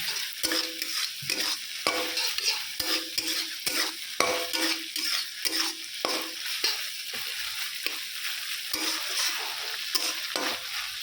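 Fresh ash gourd pieces with turmeric sizzle in a pan while a utensil stirs and scrapes in a quick, steady rhythm, close and continuous throughout.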